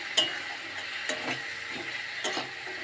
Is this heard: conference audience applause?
no